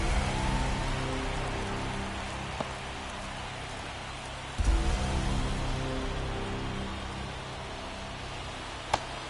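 Steady rain pours over a baseball field in MLB The Show 24, a constant hiss of falling water with a few faint knocks and a soft thump partway through, no voices over it.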